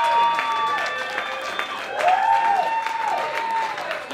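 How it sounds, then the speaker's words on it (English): Audience applause and cheering at a live boxers-versus-briefs contest, steady clapping from a crowd with whoops and a host's voice rising over it, sustained throughout. "Big round of applause for Jim, guys."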